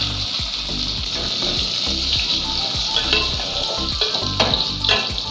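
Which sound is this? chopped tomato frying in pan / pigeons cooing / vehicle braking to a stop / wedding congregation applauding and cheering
chopped tomato frying in pan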